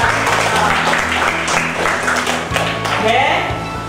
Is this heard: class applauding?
yes